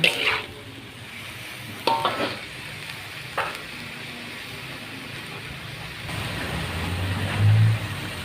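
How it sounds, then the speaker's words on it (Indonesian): Tomatoes stirred with tempeh and tofu in a frying pan give a steady low sizzle, with a few sharp scrapes and knocks of the utensil against the pan, and the sizzle swells toward the end. "kemudian kita masukkan tomatnya kita aduk biar agak matang"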